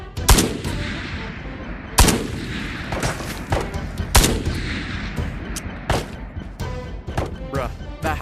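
Dragunov sniper rifle shots ring out in the Ghosts of Tabor VR game, with sharp, loud cracks at irregular intervals of a second or two and other gunfire and faint talk between them.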